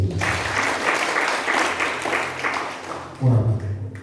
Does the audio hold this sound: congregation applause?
yes